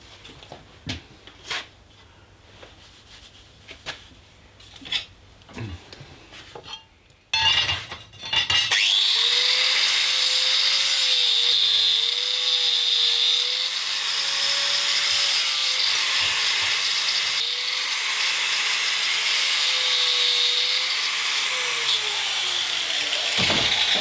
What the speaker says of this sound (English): now I've got to grind it all back flat before I actually re-drill the hole